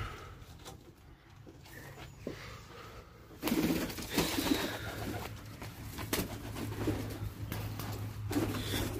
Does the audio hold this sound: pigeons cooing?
yes